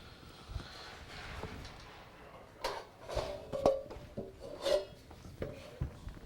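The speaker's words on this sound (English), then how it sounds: "you're going to start by taking off the bottom felt and the bottom tension lug" Felt washer and bottom tension lug worked off a drum hi-hat clutch: several soft rubbing and light scraping handling sounds with small metallic ticks, close and quiet, with no talking.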